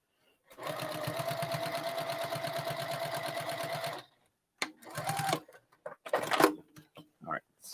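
Sewing machine stitching binding on a first quilt, a close steady run of rapid stitches for several seconds, then stopping, followed by short clicks and handling noises while someone speaks.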